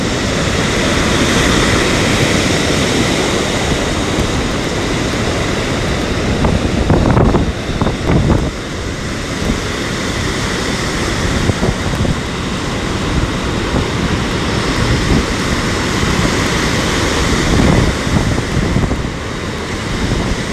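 Storm surf pounds Sochi beach under strong, gusting wind, a continuous loud roar of crashing waves and buffeting wind noise throughout, with heavier breaking surges midway.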